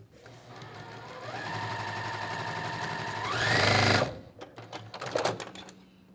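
Sewing machine stitching steadily while a quilter pieces Ohio Star quilt blocks, a continuous close whirring that speeds up near the end, stops abruptly, and gives way to brief clicks and handling noises.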